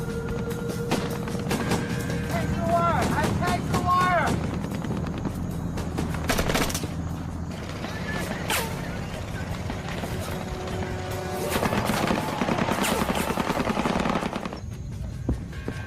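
Battle gunfire in the Vietnam War fight at Lang Vei, with machine-gun bursts and scattered shots blended into a dense, continuous roar of combat running throughout, with voices heard among the noise.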